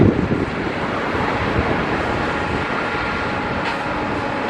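Wind buffeting a microphone at a stadium construction site in Las Vegas, a loud continuous low rumbling roar with gusty swells throughout.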